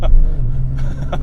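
A BMW M3 E46 inline-six with an aftermarket exhaust drones in a low, steady note close by for just over a second, with a couple of brief sharper bursts near the end.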